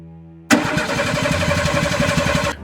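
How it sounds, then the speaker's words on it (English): A stolen truck's engine cranks and catches, a sudden loud start that settles into a steady, rough, sputtering run with a pulsing mechanical rhythm, close by, before cutting off. "the stolen truck's engine attempted to sputter back to life"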